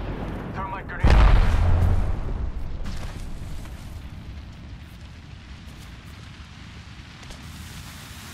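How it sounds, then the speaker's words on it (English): A thermite grenade going off in the Apex Legends video game: a sudden heavy boom followed by a roaring burn that gradually fades. "Thermite grenade out."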